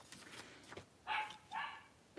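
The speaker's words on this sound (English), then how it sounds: "my dog is barking." A dog barks twice, short sharp woofs about half a second apart, faint and somewhat distant, within a quiet indoor room.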